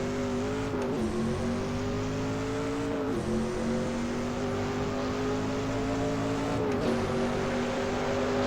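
A race car engine at full throttle in a Group C sim racing game, a loud sustained drone with steady pitch and a few brief dips at gear changes, no talk.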